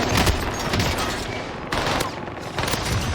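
Rapid automatic gunfire rattles in continuous bursts during a first-person shooter match with a hip-fire weapon build. The shots are loud, close and dense, with brief gaps between volleys and no talking.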